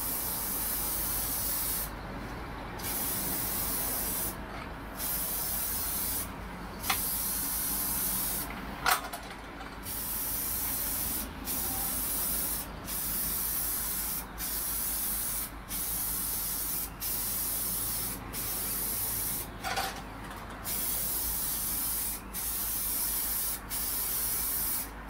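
A spray can lays a thin coat of sealer onto a guitar body in a long run of steady hissing bursts, each a second or two long, separated by brief pauses, close and fairly loud with no talking.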